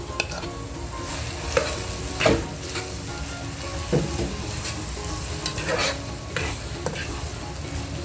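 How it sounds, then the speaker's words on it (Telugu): Ingredients frying in a pan, a steady sizzle with occasional scraping stir strokes and clinks across the whole stretch, fairly close, with no voices. "దీన్ని కాస్త ఫ్రై చేస్తానండి"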